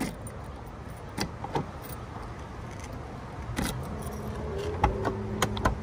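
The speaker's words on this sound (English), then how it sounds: "Let's go ahead and open up the driver's side door." Driver's side door of a 1995 Ford Econoline 250 4x4 camper van being opened, with keys jangling, sharp clicks of the latch and handle, and a soft scrape as the door swings, heard close up with no talk.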